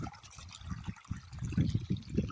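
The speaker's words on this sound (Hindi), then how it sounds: "पानी यहाँ पे गिर रहा है, लेकिन पता नहीं है कहाँ जा रहा है पानी" Irrigation water pouring into a mung bean field, an uneven splashing and trickling flow with low gurgling surges that grow fuller toward the end, close by and heard alone.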